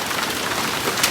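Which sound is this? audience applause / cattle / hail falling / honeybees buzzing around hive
hail falling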